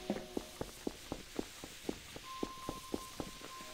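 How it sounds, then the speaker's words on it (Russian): An animatronic runs in Garry's Mod with a FNAF 3 mod, giving about a dozen evenly spaced, thudding footsteps in a quick steady rhythm. They are fairly faint and slightly distant, with no talking over them. "Слышу, бегает, ребята."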